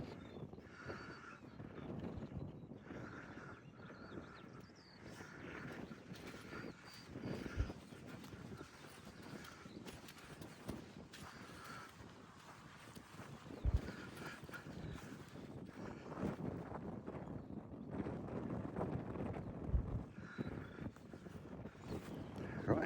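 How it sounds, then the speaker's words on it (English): Strong wind on a hilltop in Devon, buffeting the microphone with continuous low rumbling gusts that swell and ease throughout. "it is really windy up here"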